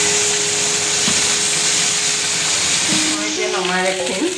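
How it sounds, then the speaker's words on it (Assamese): Cauliflower and potatoes fry in a little oil with a loud, continuous hiss and sizzle close by, and a voice speaks briefly near the end. "মই অলপ ভাজি ল'ম"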